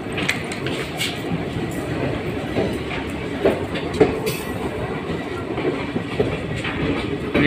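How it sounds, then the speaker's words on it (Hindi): A passenger train runs past on Indian railway track in Bihar, a steady rumbling roar with clickety-clack wheel knocks and occasional metallic squeals, close and continuous. "उस साइड से कोई ट्रेन जा रही है, देखते हैं कौन सी है।"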